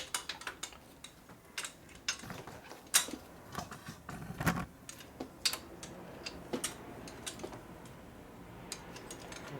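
Wrench clicking and ratcheting while bolts are tightened down evenly on the gaskets of a 1988 Harley-Davidson FXR motorcycle, a close, quiet series of irregular ticks and taps.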